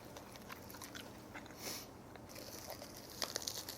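Someone bites into and chews a homemade butter rice cake, giving soft, close mouth sounds with a few crisp crunchy bites near the end, alone and fairly quiet.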